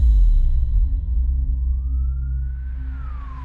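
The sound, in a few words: ambulance siren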